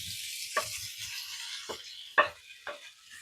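Vegetables sizzle in a pan of melted oil and a little butter, a steady frying hiss with a few louder bursts and crackles as pieces hit the hot fat, for a wartime corned beef hash.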